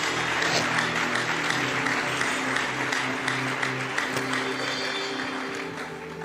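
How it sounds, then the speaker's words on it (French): A church congregation cheers and applauds loudly for the Lord, a steady wash of clapping and voices that stays full and close throughout, then eases off slightly toward the end. "Si on peut acclamer très fort pour le Seigneur."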